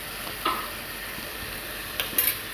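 Red chilli, green chilli and Schezwan sauces sizzle in a hot pan for a soyabean dish, a steady close hiss broken by a few sharp scraping stirs of a spoon against the pan.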